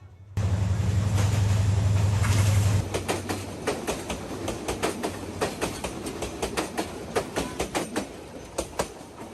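A train passes on a railway line in Sreemangal, opening with a loud sustained horn-like drone, then steady rhythmic clickety-clack of wheels over rail joints, close and continuous.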